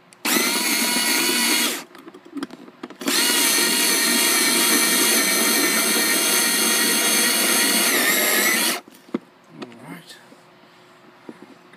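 Power screwdriver driving screws while a dimmer switch is installed on a table with a built-in lamp: two loud steady whirring runs, a short one followed by a long one, then handling clicks and a brief voice.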